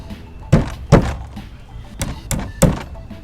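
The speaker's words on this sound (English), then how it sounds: "Knock your old nails out." Hammer knocking old nails out of weathered wood fence panels, five or six sharp thunking blows at an uneven pace, close and fairly loud.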